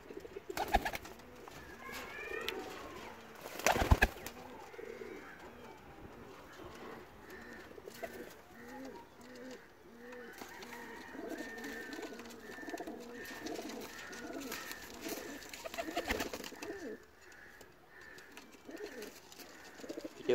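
Pigeons coo continuously in soft, rolling, low-pitched calls, with a few sharp clattering noises and faint background activity, at a pigeon sale with pairs of golden and other breeds.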